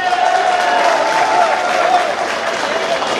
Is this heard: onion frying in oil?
no